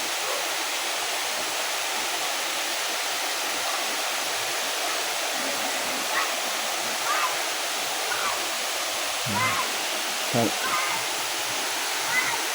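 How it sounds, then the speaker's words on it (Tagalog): A tall waterfall, Nalalata Falls in Bula, Camarines Sur, pours down in a steady, dense roar that fills the whole stretch, with faint voices and a few brief sounds now and then. "Yan na yung napakataas na falls."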